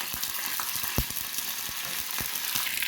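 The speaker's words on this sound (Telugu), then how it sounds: "కొంచెం ఆయిల్ వేసి పోపు గింజలు, మిరపకాయలు, ఎల్లిపాయలు, పచ్చిమిర్చి, కరివేపాకు వేసుకున్నాం." Tempering of mustard seeds, dried chillies, garlic, green chillies and curry leaves crackling in hot oil for raw mango charu, a steady sizzle with scattered pops and light stirring taps.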